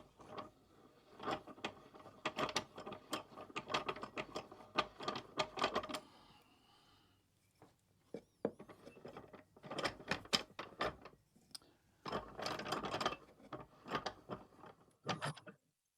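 Clamp ratcheting down on segmented mahogany salad bowl rings, heard as bursts of rapid mechanical clicks in clusters with short pauses, close and moderately loud with no talking.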